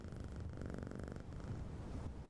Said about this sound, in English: I don't know how I ended up with a cat, but since you're mine, you get the scritchy scratches.